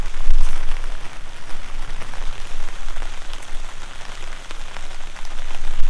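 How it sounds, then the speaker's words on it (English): Heavy rain pouring down hard outdoors: a dense, continuous hiss of drops striking surfaces, close and steady with slight swells in loudness, and no voices. "Ooh, it's raining, man. The rain's coming down hard."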